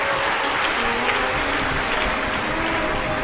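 Loud, dense applause from a large audience at a Shiv Mahapuran katha in Sehore, a steady wash of clapping with no break for the whole stretch.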